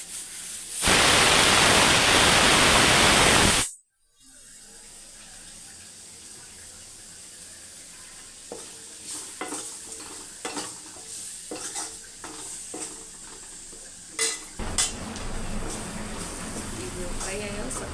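A loud burst of hot sizzling opens, then stirring and scraping of coconut tempering in a pan continues more quietly, with clinks of a spoon and a louder sizzle near the end.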